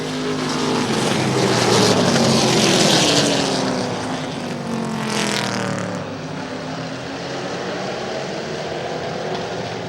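Race cars roar past on a track, a loud engine howl that swells and fades as the pack passes nearby and gives way to the sustained drone of more cars circling, with no voices.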